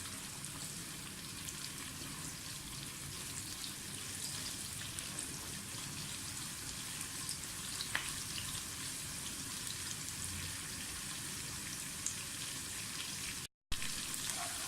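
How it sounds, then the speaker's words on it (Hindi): Onions sizzle steadily in a saucepan over a medium flame while pulao is cooked, a constant dense crackling hiss that stays even throughout, briefly cutting out near the end. "ये मैंने मीडियम फ्लेम रखी हुई है, बहुत तेज़ नहीं करनी, क्योंकि ज़्यादा अच्छी प्याज फ्राई होगी।"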